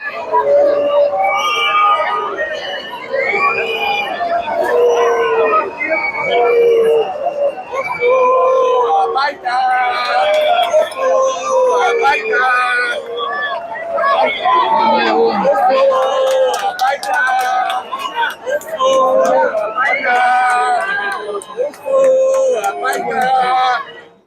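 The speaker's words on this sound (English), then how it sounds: "you can clearly hear them booing in the background" Crowd heckling and booing Jews praying in a public square in Tel Aviv on Yom Kippur, a dense, continuous babble of raised voices and shouts, loud and close throughout.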